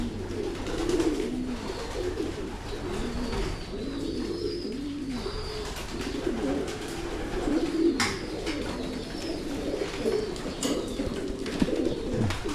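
Pigeons coo in repeated soft, throaty phrases near a farm, with several overlapping calls rolling on steadily beneath faint background chirps.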